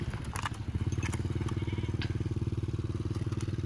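A small motorcycle ridden by a child runs nearby with a steady, rapidly pulsing engine putter, fairly close and continuous, with faint background noise.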